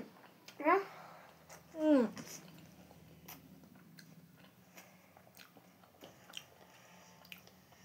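Momo dumplings are chewed during a blindfolded eating challenge. Two loud, close bites or squishy mouth sounds come early, followed by quieter, intermittent chewing in a mostly hushed room.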